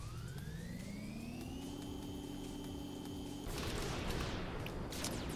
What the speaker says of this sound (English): sometimes before large jumps, I will fire a bullet at my feet